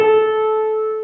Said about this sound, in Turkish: Evet, şimdi bu la sesi,